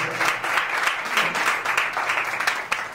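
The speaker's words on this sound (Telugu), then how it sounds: "కొట్టు చప్పట్లు గట్టిగా" A church congregation clapping loudly, a dense, even stream of hand claps that keeps up for a few seconds, close and steady with a faint voice underneath.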